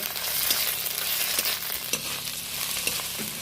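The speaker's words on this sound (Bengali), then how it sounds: "আদা রসুন বাটা দেওয়ার পরে এইটা বেশ কয়েক সেকেন্ড ধরে ভালো করে ভেজে নেব" Ginger-garlic paste fries with onions in a pan for prawn malai curry, a steady close sizzle punctuated by several light scrapes of a stirring spoon.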